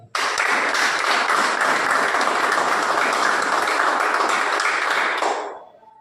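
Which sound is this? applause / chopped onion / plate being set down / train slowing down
applause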